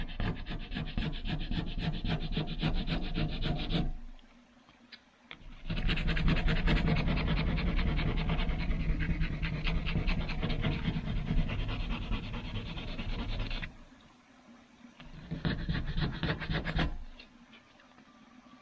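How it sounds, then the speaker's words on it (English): A plastic card scraping old decals and tough glue off a van's body, producing long, steady, rasping strokes up close, pausing twice briefly before resuming, with no talk. "Let's start scraping."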